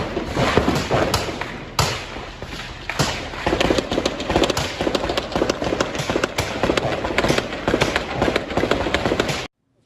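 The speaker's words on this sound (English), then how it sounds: "content warning for gunshots" A rapid barrage of sharp gunshot-like bangs from a played news recording, dozens of overlapping loud cracks and thuds in irregular bursts over nearly ten seconds, ending abruptly.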